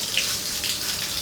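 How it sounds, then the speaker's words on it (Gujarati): Water pours down from above while mud left by rain is being washed out of a house, a steady, close rushing hiss with no break and no voices. "ઉપર આમ જો પાણી આવે છે"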